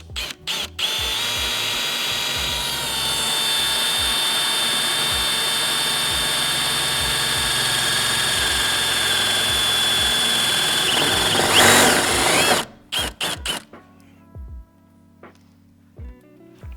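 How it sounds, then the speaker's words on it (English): A power drill with a 9mm bit bores a hole in a van body during a camper conversion, a loud steady high-pitched whine held for about twelve seconds before cutting off, followed by a few quieter clicks and handling sounds. "So I'm basically going to drill this hole, fit the riv nut, and then we've got a bolt hole."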